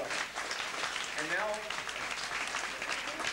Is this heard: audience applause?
yes